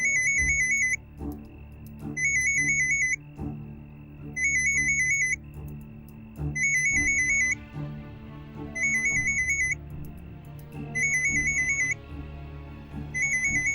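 A telephone rings in repeated electronic bursts, each roughly a second long and separated by short pauses, loud and close over a low background hum in an indoor scene of a Marathi TV serial.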